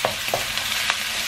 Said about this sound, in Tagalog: Igisa mo lang hanggang magbango-bango